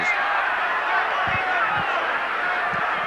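Rugby league crowd at a Hull KR versus Bradford match, a wide hum of shouting spectators that holds steady for three seconds, with a few dull thuds from play.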